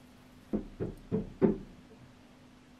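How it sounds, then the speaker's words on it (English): Neighbours doing building work on the house next door send four evenly spaced dull thuds, muffled and distant through the wall, followed by quiet. "I've got next door like working away on their house"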